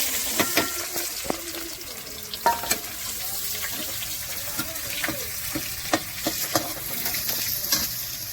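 Steady sizzling of onions frying in hot oil with cumin and bay leaves, with intermittent scraping stirs and clinks of a utensil against the pan, close up.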